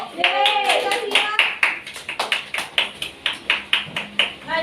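Classroom applause for a student's answer during a microteaching lesson: a run of sharp, evenly spaced claps from a small group, steady across the whole stretch, with children's voices talking at the start.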